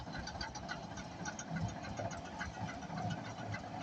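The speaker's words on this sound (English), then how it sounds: "it may look like a steam engine from the exhaust tube, however, this is a diesel engine." A diesel engine powers a road roller at an agricultural show, running with a steady, close, rumbling chug and mechanical rattle that holds an even level throughout.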